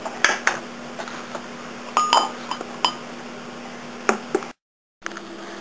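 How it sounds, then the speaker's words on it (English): Sausage and minced vegetables go into a pan, giving a few sharp clinks and scrapes of utensils against cookware over a low steady hum, with a brief dropout near the end. "next we're going to add in some sausage and some minced vegetables"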